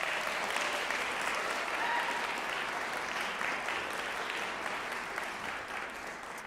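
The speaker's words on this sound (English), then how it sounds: "One more round of applause for them, please." Audience at a school of music honors convocation applauds student performers, a soft, distant wash of steady clapping that holds evenly and tapers slightly toward the end.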